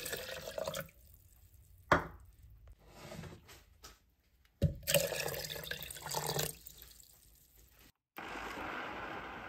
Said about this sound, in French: ajoutez 750 ml d'eau.